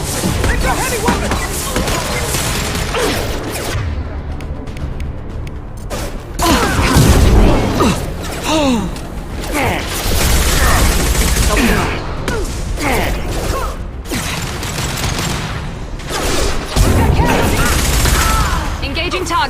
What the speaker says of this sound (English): it's a heavy weapon!